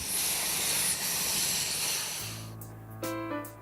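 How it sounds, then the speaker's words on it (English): A loud steam hiss dies away, then the steady low rumble of an MH4 steam locomotive pulling a train to Gmünd, with a brief burst of steam and metallic ringing tones. "MH4 now pulls the train back to Gmünd."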